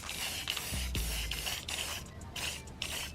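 Aerosol spray paint hissing onto a removed car wiper arm in several short bursts with brief pauses, close and fairly quiet.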